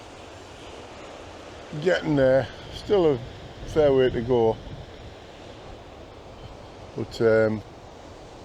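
Wind and surf at Runswick Bay make a steady, broad rushing roar with wind buffeting the microphone throughout, while someone talks in short phrases over it.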